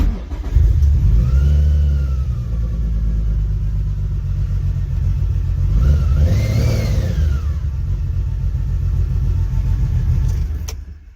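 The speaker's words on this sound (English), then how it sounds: "So here it goes. Runs like 4 cylinders." A supercharged Nissan Maxima engine runs rough as if firing on only four cylinders, giving a loud, close, uneven rumbling idle with a couple of brief revs that rise and fall before it cuts off near the end.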